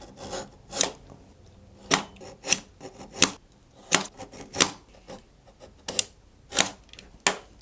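Small blade scraping and cutting into the casing of a Makita power-tool battery cell, a series of sharp, close rasping strokes at an irregular rhythm, about a dozen in all, with no talk.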